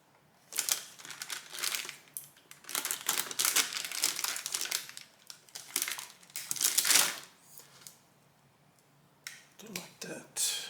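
Insulation being cut back on 4-gauge battery cable for a 1977 Camaro Z28 without a utility knife, heard as close, repeated scratchy crinkling and snipping bursts with brief gaps.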